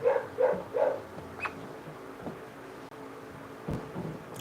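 A dog nearby gives three quick barks in a row, fairly faint and close together. After them comes a quiet room with only scattered small noises.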